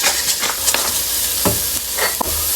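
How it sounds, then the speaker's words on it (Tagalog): Pink salmon stir-fried in butter sizzles steadily, with repeated scraping stirs of the spatula in the pan breaking through the frying hiss at a quick, uneven rhythm. "pink salmon, lagyan natin ng butter. Stir fry lang natin yan."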